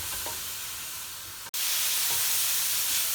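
Sweet corn and chicken filling for spring rolls cooking in a pan, a steady close sizzle and hiss with faint stirring scrapes, briefly cut off midway before resuming louder.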